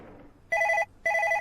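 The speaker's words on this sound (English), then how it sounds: "you hear the phone ringing?" Telephone bell rings in two clear bursts with a short gap, loud and close, over faint room noise and no talk.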